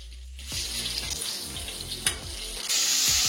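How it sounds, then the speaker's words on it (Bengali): Onion fries in hot oil with curry leaves and chillies, a close, steady sizzle with soft stirring scrapes, swelling into a brighter, louder hiss for the last half second. "এবারে এই পেঁয়াজটাকে একটু ফ্রাই করে নিচ্ছি"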